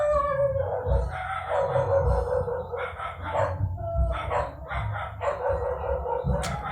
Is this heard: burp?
no